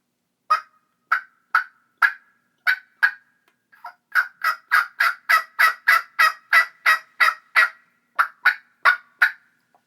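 A series of raspy turkey yelps on a mouth call, sharp evenly spaced notes in two runs with a brief pause between, close and loud.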